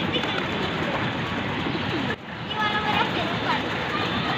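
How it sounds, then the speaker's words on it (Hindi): Pigeons coo close by as a child tries to catch one, soft throaty calls mixed with shuffling and a brief bump, under a background of nearby chatter. "बहुत ही सिंपल से कबूतर हाथ में आ जाता है"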